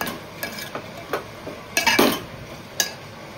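A spoon stirs a fenugreek leaf and garlic stir fry in a metal pan, giving a handful of scattered clinks and scrapes, with a louder cluster near the middle, close and clear with no talking.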